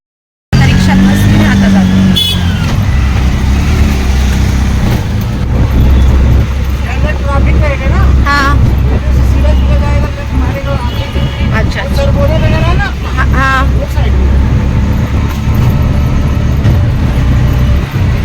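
An auto rickshaw rides through city traffic, its engine a continuous loud drone with road noise for the whole ride while a passenger talks over it.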